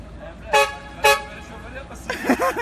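Two short, loud car horn honks sound in quick succession on a street in Şarköy, followed by a voice speaking.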